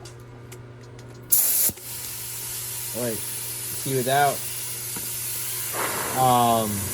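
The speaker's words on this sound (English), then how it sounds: "you can hear there's a lot of air pressure" Steady hissing rush of air blown from a hot air plastic welder runs throughout, with a brief louder burst early on, while someone talks over it.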